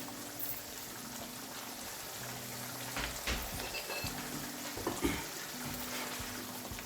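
Mint paste being stirred into a cooking masala curry for an egg and potato dish: a steady low bubbling fry with a few scraping, sloshing strokes of the spoon, close and fairly quiet, with no voices.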